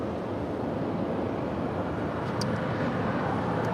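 Broadband jet roar from a departing aircraft on runway 25 right at LAX, a steady, fairly loud wash of engine noise heard alone without talk.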